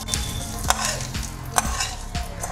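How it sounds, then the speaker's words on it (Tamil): Fried onion and curry leaves stirred into millet adai batter, soft wet scraping and sloshing with a few sharp spoon knocks against the bowl, close and unaccompanied by talk. "மாவோட இதை கலந்துடலாம்."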